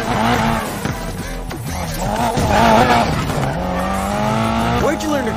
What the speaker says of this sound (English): Lighting up those tires is a piece of cake.